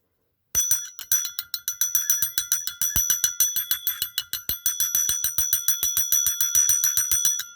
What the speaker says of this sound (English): Not very loud, but you can hear the ting.